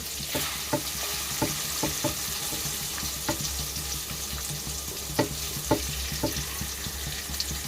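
Onion fries in hot oil with ginger, garlic and chili paste, a continuous sizzle close up, punctuated by sharp clacks of a spoon stirring against the pan, with no speech.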